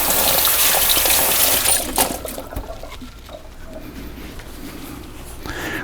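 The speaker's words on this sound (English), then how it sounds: "Let me wash my hands off here." A kitchen tap runs loud and close as hands are washed, a steady rush of water for about two seconds that then drops off sharply, leaving quieter trickles and faint clatter.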